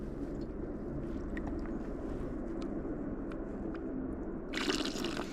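Water is poured into a pot for strawberry granola on a backcountry camping and fishing trip, a low steady trickle with faint outdoor ambience that ends in a brighter, splashier gush near the close, with no talk.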